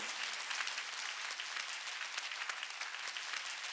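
A church congregation at a Sunday worship service claps together, a steady, fairly faint wash of many hands with no voices heard.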